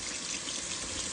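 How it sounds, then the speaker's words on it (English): Cold tap water runs steadily over fresh oysters being washed in a sink, a continuous close splashing hiss with no talk. "When you wash them, you want to make sure your water is cold"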